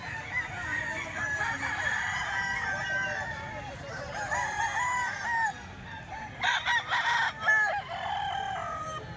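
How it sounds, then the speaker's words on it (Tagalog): Roosters for sale at a grotto cluck and call continuously close by, with crow-like cries rising over the steady flock noise and a few louder bursts near the end. "Isa-isahin natin itong mga manok ni Boss Ray."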